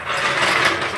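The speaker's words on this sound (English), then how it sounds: "This car is equipped with the interior jack model where you can just reach on inside here and drop the car down from inside." Built-in interior jack on a 1960s-era Ford Mustang lowering the car, a steady close metallic ratcheting grind lasting about a second with no pauses.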